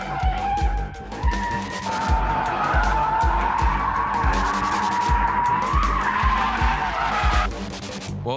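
A lightweight Mazda Miata drifts with loud, sustained tyre squeal over a revving engine that pulses through gear changes, up close and without talk.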